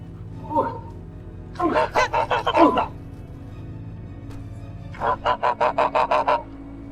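Goose honking in repeated quick series, a single call first and then two loud bursts of six or seven honks each, close and clear over a low background hum.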